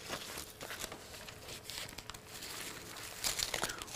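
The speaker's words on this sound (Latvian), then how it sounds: "ja tātad plēvē es varu ielikt iekšā to pašu papīru" Plastic film crinkling and rustling as a sheet of paper is slipped inside it, a dense, continuous close-up crackle with irregular louder bursts, ending in a sharper flurry of crinkles.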